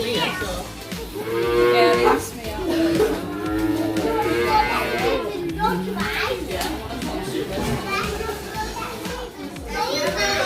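Cows moo at a farm in loud, drawn-out calls that rise and fall several times, close by, with children chattering and talking over them.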